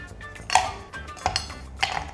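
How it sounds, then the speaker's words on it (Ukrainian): Three ice cubes drop one by one into a shaker holding strawberry puree for a cold coffee drink, each landing as a bright, sharp clink at an even pace, fairly quiet and close. "додаємо 3 кубика льоду"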